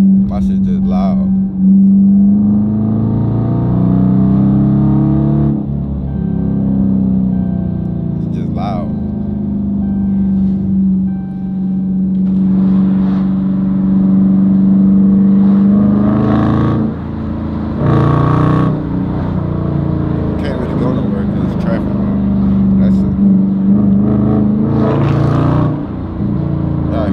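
Loud 2019 Dodge Challenger R/T engine and exhaust, a steady deep rumble throughout with rising revs at several points, close to the microphone, with people talking over it at times.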